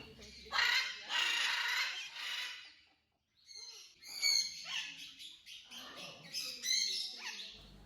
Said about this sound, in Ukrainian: Зелені ари граються, а великі сині спілкуються. Найгучніші серед всіх.